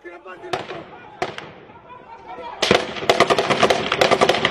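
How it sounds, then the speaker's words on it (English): Gunfire comes from several directions during a jihadist attack on Malian army troops in Gao: scattered loud sharp reports, then a dense rapid burst of shots, close and harsh, with a voice heard alongside. "We were taking fire from multiple locations."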